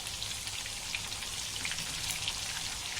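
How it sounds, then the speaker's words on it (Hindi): Surmai fish frying in oil in a pan over medium gas, giving a steady, dense crackling sizzle throughout, close and even, with no talk. "कितने अच्छे से फ्राई हो रही माशाल्लाह"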